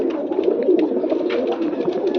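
A tufan-type pigeon, a gift from a mentor, coos in a steady, close, rolling stream of low throaty calls, loud and alone without any talking.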